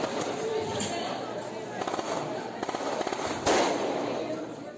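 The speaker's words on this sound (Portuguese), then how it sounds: "perceberam que se tratava de rajada de tiros" A rapid burst of gunshots crackles at a distance, with voices and crowd noise underneath, followed by one sharper shot.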